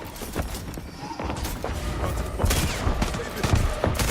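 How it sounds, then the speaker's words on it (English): Rapid scattered gunshots in a video game, a dense crackle of sharp reports growing busier and louder toward the end, mixed with background game noise and a faint voice. "Shooting."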